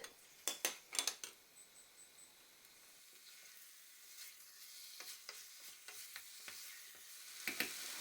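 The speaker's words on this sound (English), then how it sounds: "Add the rest of the oil and fry the beef until it's sealed." Beef searing in hot oil in a pan for a Japanese beef curry, with a steady sizzle running throughout and sharp utensil scrapes and clinks as the meat is stirred, loudest near the start and end.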